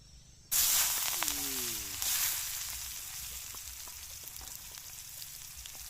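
Onion, garlic, tomato, ginger and turmeric hit a hot pan with a loud sudden sizzle that settles into steady frying hiss, with a brief clatter near the start.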